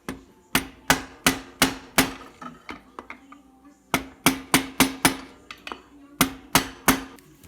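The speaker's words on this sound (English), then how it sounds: "I'm going to hammer it from the other side on the starter itself to try to tap" A metal hammer strikes a seized, rust-stuck ATV starter motor to tap it out after water damage, sharp ringing blows in quick bursts of three to five with brief pauses, close and alone.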